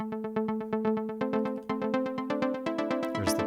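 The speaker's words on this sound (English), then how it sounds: "the lead hook is this kind of progressive delayed synth sound in the blue here" A solo progressive synth lead hook built in Ableton, bright plucked notes in a quick repeating pattern with delay echoes trailing each one, its tone gradually thickening and shifting while the notes stay the same, with no other instruments.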